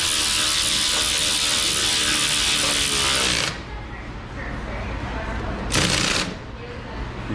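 Power ratchet running down rear axle bolts on a 2019 Ram 1500 pickup, a loud continuous whirring buzz that cuts off, followed by a quieter lull and a second short burst.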